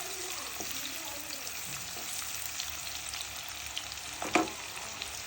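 Chopped onion hits hot oil in a pan, giving a steady soft sizzle with a few stirring scrapes and one sharper clatter near the end, no voices.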